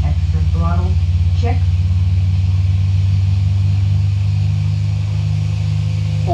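A steady, droning aircraft engine hums loudly under extra throttle in the Prepar3D flight simulator, holding a constant low tone throughout while brief bits of speech sound over it.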